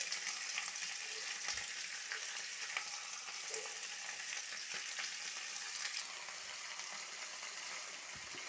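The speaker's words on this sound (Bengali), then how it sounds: "আমি তেল বেশি দেইনি অল্প তেল দিয়ে এইগুলো একটু নাড়িয়ে নেব হালকা ভেজে নেব" Pea pod shells fry lightly in a little oil, giving a steady close crackling sizzle that fills the whole stretch, with a few soft stirring knocks scattered through and no talking.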